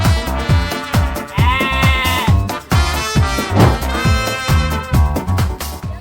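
A Garut sheep bleating over loud rhythmic music with a strong beat, a wavering animal cry rising out of the mix partway through.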